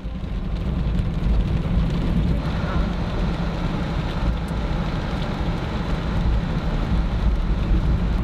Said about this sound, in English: the rain has turned to a slushy snow